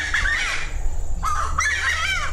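A harsh, squawking cry of the Ypaka'a bird repeats in loud bursts, rising and falling, with a brief pause between calls.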